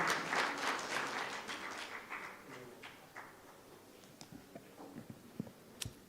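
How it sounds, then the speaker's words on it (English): A crowd applauding at a Konrad Adenauer Stiftung Kenya event, a burst of many hands clapping that swells and then thins to scattered claps as it fades away. "Let's a round of applause for her, please."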